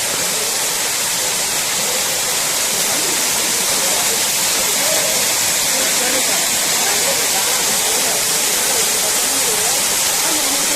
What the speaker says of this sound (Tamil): இப்போ நம்ம ஃபால்ஸ் கிட்டே வந்தாச்சு